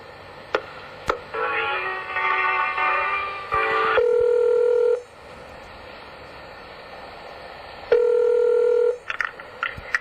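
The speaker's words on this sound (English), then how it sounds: "If you know your party's 3-digit extension, you may dial it at any time." A touch-tone telephone keypad dials an extension into a municipal center's phone system, with a run of loud beeping tones followed by ringback tones on the line, clear and close.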